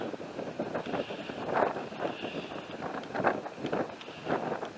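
Strong wind gusting at night outdoors near old bunkers, rough buffeting rushes against the microphone rising and falling in waves, loud and close.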